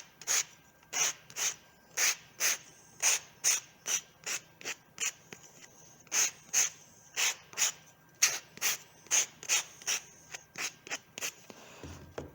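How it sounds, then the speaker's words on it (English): Wooden burr puzzle pieces are sanded along their edges by hand, giving a steady series of about twenty short, rasping strokes in an even back-and-forth rhythm, close and clear with no talking. "And that's the sanding done."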